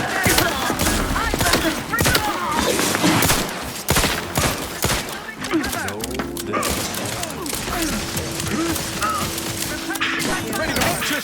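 Sustained gunfire and a fusillade of shots from the video game Outer Worlds 2, with dense repeated bursts and thuds throughout against a busy combat mix, voices occasionally talking over it.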